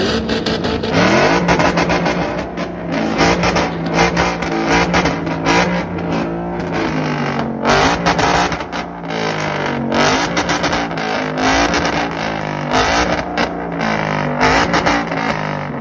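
Engines rev hard at a car meet, a BMW M5 CS and a Golf R among them, with loud, continuous roaring and repeated throttle blips rising and falling for the whole stretch.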